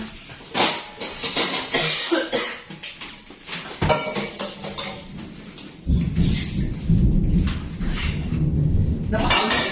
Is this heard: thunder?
yes